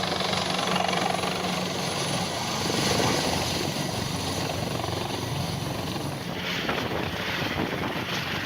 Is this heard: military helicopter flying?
yes